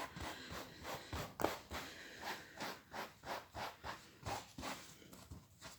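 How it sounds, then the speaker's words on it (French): Bristle brush dragged in repeated strokes over a macramé cord feather laid on an ironing board, a steady rhythmic scratching, close and moderately quiet, roughly a dozen strokes. "Donc, maintenant, on repasse un coup de brosse."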